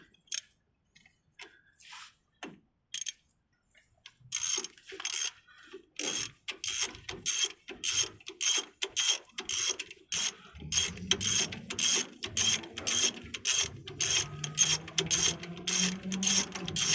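A ratchet works a front brake bolt on a 2009 Nissan Versa 1.6L, giving a fast run of sharp, close metallic clicks that grow steadier and denser, with a low grinding undertone toward the end.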